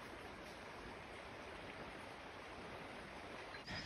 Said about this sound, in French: On va se faire un petit déjeuner tranquillou au bord du petit ruisseau.